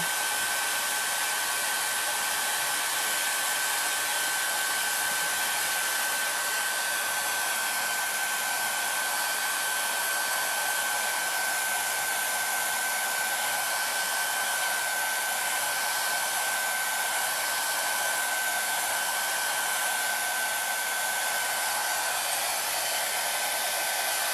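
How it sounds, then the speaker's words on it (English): A blow dryer on its cool setting runs continuously to dry craft paint, a steady, loud, unbroken whooshing hum with a constant whine throughout. "Use the cool setting on the blow dryer."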